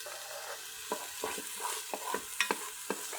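Green onion whites and greens with garlic sizzling in a Ninja Foodi, a low steady fry under soft repeated stirring scrapes and taps, close and fairly quiet, no voices.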